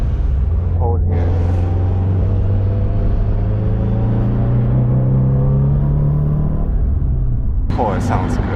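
A built Subaru STI turbo engine runs close by in Hawaii, a loud steady rumbling drone with a slowly rising tone, ending in a brief sharp burst, with people talking over it.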